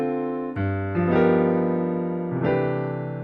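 Solo piano plays a short jazz chord progression, four chords struck in turn and held, with inner voices moving by small steps from the ii chord through an altered V chord. The playing is clear and close, with no speech.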